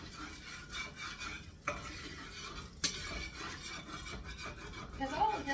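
Onions sauteing in a hot pan of butter, oil and steak drippings, a faint, steady sizzle with scraping and stirring, plus a couple of sharp clinks of a utensil against the pan.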